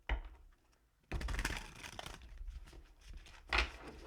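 A tarot card deck being shuffled, with a dense burst of crisp riffling and flapping card noise that runs for a few seconds after a quiet start and ends in a louder snap.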